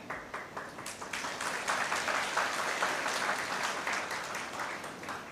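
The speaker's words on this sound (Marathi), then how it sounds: "तुम्ही टाळ्या वाजवल्या म्हणून तुमचे आभार मानते" A large crowd breaks into applause during a political speech on Gandhi, loud dense clapping that swells and holds steady with no one speaking.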